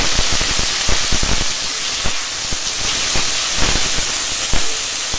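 Steady loud sizzling hiss as cut taro and potato go into hot oil with fried onion and green chili for a curry, crackling pops scattered throughout.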